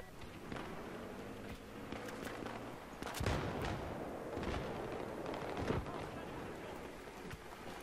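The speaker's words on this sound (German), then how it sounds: "So ein Mörser ist eine feine Sache auf Hardcore." Mortar fire and explosions boom in Battlefield 3 on a hardcore Rush match in Karkand, with several heavy thuds and cracks spread over the stretch amid battlefield noise and a voice talking.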